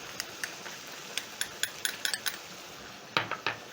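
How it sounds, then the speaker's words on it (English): Honey and cornstarch are stirred into a teriyaki sauce for chicken, giving a run of light clinks and taps of a utensil against a pan, spaced irregularly, with a few sharper knocks near the end and no talking. "And then I'm going to stir in"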